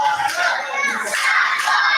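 A crowd at a live wrestling show in Witham Public Hall shouts and cheers loudly and continuously, with many high, excited voices, some sounding like children, blending together up close.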